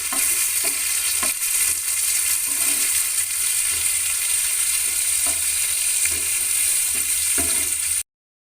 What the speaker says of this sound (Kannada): ನಾನು ಇದಕ್ಕೆ ಇವಾಗ ಟೊಮೆಟೊ ಹಾಕ್ತಾಯಿದ್ದೀನಿ.